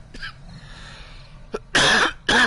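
A man lets out a few dry coughs, a faint one first and then two loud, harsh bursts close to the mic in quick succession.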